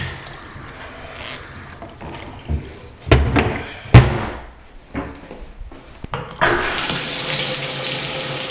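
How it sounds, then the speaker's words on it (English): Tap running water out into a bathtub during a home inspection, a steady hiss broken by several knocks and clunks from the fixtures, then a louder, brighter gush of flow toward the end, close and loud. "we've got the water running out to the tub"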